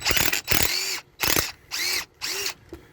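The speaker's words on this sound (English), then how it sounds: "I went ahead and got the impact with a deep well, 13 or 1/2 inch." Impact wrench with a 13 mm or 1/2-inch deep well socket removing a bolt on a 1998 Dodge Dakota rear air suspension, five loud close hammering bursts of about half a second each, separated by short pauses.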